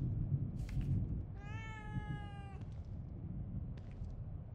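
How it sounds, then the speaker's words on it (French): A cat meows once in The Evil Within 2 horror game, a clear rising-and-falling tonal cry of about a second over a dim, rumbling background, with a few faint clicks around it. "Un chat."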